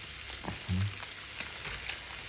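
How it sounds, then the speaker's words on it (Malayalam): Soft, faint sizzling of chili powder and garam masala being stirred in a pan while making egg curry, with a few light scrapes against a steady frying hiss. "നന്നായിട്ടൊന്ന് ഇളക്കി കൊടുക്കണം"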